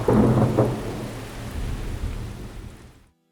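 Radio-drama thunderstorm effect: a loud, close thunder crash rolls over steady heavy rain, rumbling on for about three seconds before cutting off abruptly into silence.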